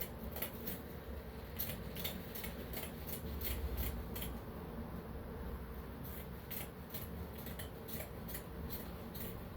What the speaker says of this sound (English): So I've gone ahead now to cut out the wrapper.